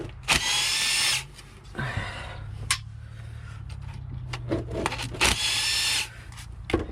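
An impact wrench removes bolts from a Mercedes Sprinter van transmission in loud, close bursts of rattling whir, about three main runs with short clicks and pauses between them.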